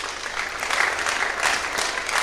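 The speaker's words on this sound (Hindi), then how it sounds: "प्रीति के लिए तालियां।" A classroom audience claps for a student named Preeti, a steady burst of applause from many hands lasting a couple of seconds, moderately loud and even, with no talking over it.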